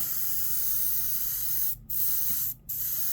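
Paint sprayed in short dusting bursts onto a D&D demon skull model, a steady close hiss broken by two brief pauses.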